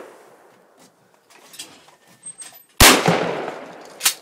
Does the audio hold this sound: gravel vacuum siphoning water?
no